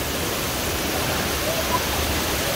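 Esmeralda waterfall near Boa Vista, Roraima, pours out a steady, dense roar of falling water that fills the whole scene at an even, fairly loud level with no break.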